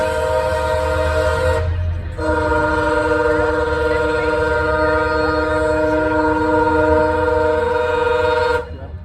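A MARC commuter train led by two MP36 locomotives with bi-level coaches passes close and loud, its horn blowing in long sustained blasts over the rumble of the wheels.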